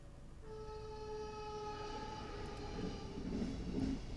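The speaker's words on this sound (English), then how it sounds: "As the train comes by." A train sounds a sustained multi-tone horn for a few seconds, faint and distant, as a low rolling rumble grows louder while it passes.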